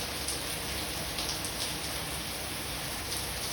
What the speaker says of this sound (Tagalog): grabe talaga ang ulan na